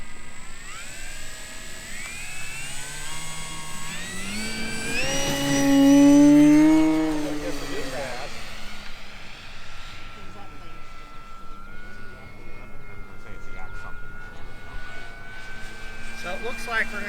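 A HobbyKing Yak 11 RC model airplane in Red Reno scheme takes off and climbs on its maiden flight, its engine whine rising and sweeping in pitch, loud and near at first, then thinning as it pulls away, with someone talking over it.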